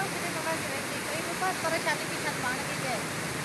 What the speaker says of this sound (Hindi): देख लो कितना शोर है इसके पानी का जी, और कितनी तेजी का बहाव है